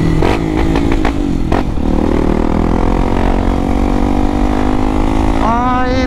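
Honda XRE 300 motorcycle fitted with a Dore exhaust, ridden on a smooth paved street, its engine droning loud and close throughout with a few sharp clatters early on and a rising rev near the end.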